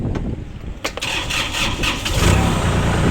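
A used Kubota L3608 DT tractor with an aftermarket performance exhaust cranks and fires up, settling into a loud, steady diesel rumble close by, with some background noise.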